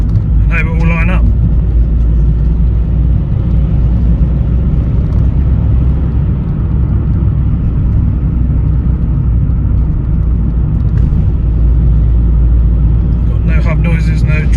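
A Vauxhall Meriva B on its first test drive after a front-end rebuild gives off a steady low road rumble and engine drone throughout, with a voice talking briefly at the start and end.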